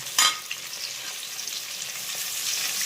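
A large sliced onion hits hot oil with green chillies for Kerala-style fish molee: a sharp initial hiss, then a steady, close frying sizzle.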